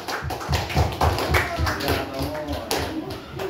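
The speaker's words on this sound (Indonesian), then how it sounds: "Yang belum bangun, kita kasih tepuk tangan yang meriah lagi." An audience at an exam-preparation session claps together in a dense, lively burst of applause, with voices mixed in.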